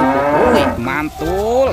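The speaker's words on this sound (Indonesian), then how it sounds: "yang ini sapi mo." A cow moos loudly and up close in two drawn-out, tonal calls, with a short spoken exclamation overlapping.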